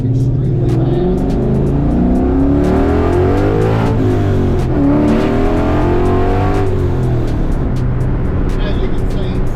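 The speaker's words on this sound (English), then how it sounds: "Car is extremely fast." A Ford Capri with a swapped-in Coyote V8 accelerates hard, loud and close from inside the car. The engine note rises through the revs, dips at a shift around the middle, then climbs again with a throaty roar.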